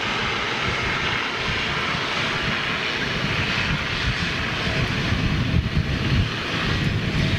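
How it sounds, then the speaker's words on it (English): An EasyJet Airbus A320neo-family jet airliner with new-option engines roars steadily and loudly close by, a continuous broadband engine rush that swells slightly toward the end. "So here's your EasyJet Neo new engine option."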